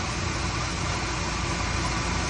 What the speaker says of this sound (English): I set the idle down on it just a little bit.